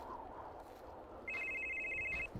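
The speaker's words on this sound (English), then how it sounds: "Ring ring, telephone." An electronic telephone rings in a video game: a steady, clear trilling ring enters partway through and holds for about a second over a quiet ambient background.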